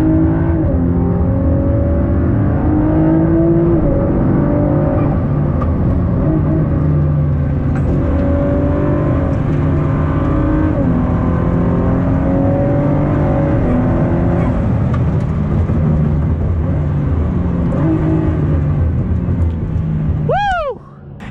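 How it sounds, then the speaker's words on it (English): Ford GT engine and exhaust while driving, a loud, sustained droning roar with shifting pitch throughout and a sharp sweeping rev at the very end. "I'll leave you with some more epic Ford GT noises"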